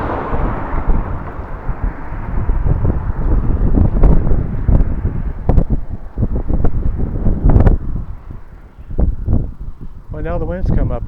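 Wind blows outdoors on a tour of Chanute and Humboldt, Kansas, a loud gusty roar buffeting the microphone in swelling waves, with a few sharp knocks and a voice speaking briefly near the end.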